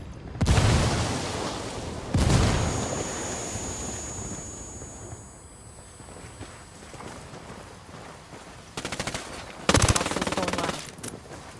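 Automatic gunfire and grenade blasts from the Ghost Recon Wildlands video game, with loud bursts near the start and again near the end and quieter combat noise between.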